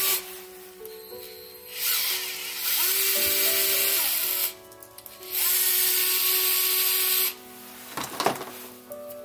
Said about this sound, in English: Now I can drill this through here.